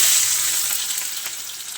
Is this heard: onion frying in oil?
yes